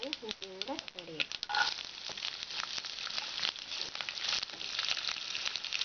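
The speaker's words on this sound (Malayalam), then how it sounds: "നമുക്ക് അരിഞ്ഞ് വെച്ചിരിക്കുന്ന വെളുത്തുള്ളിയും ഇഞ്ചിയും കൂടെ ആഡ് ചെയ്യാം" Chopped garlic and ginger sizzle and crackle steadily in hot oil with popped mustard seeds, a dense frying hiss with scattered pops as lime pickle is made Kerala style; a voice speaks briefly at the start.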